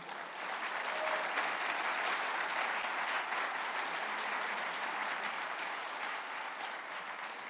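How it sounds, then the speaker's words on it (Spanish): Members of a Spanish-language church congregation clap together in sustained, full applause, a dense, steady roar of many hands that holds evenly for several seconds and eases slightly near the end. "Dale un aplauso al Señor"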